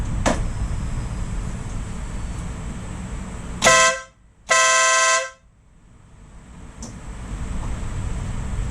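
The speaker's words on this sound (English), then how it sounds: "I know you want to hear the horn." A car horn blares loudly twice, one long blast and then another, with a short gap between them, over steady road noise.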